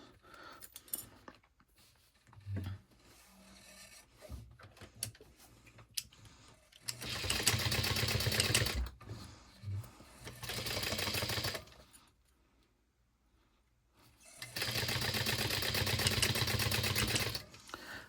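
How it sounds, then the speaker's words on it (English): Sewing machine stitching a small fabric bear-ear piece with lining, running in three separate bursts of a few seconds each, close and steady, with quiet handling noise between runs. "we're going to stitch these down at 1/8 of an inch"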